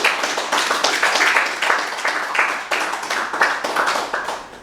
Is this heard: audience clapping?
yes